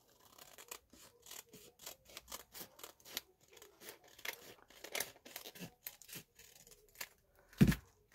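Scissors snip through paper in a steady series of short, crisp cuts, close and fairly quiet, with one louder, sharper snip near the end and no talking.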